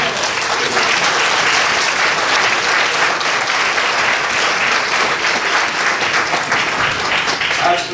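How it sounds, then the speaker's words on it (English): A reunion crowd applauds its organizing committee with a full, even round of clapping that holds steady for several seconds, the room filled with overlapping hands and a faint murmur of voices. "they really deserve a round of applause"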